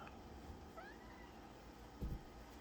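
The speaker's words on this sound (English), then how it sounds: "Cat." A single faint cat meow rises once from a quiet room, followed by a soft low thump, with steady background hiss and no talking.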